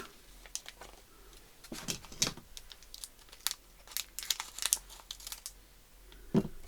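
A small plastic packet crinkled and snipped open at the corner, quiet scattered crinkles and crisp snips in irregular bursts, with a louder rustle near the end.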